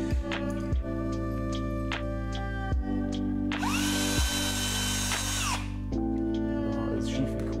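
A power drill bores into a plaster wall while a curtain rod is being mounted, its whine rising in one sustained burst of a couple of seconds amid steady low hum and a few sharp knocks before and after.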